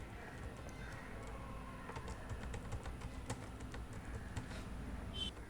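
Quiet, rapid typing on a computer keyboard as a class name is entered, with irregular soft key clicks spread across several seconds over low background hum.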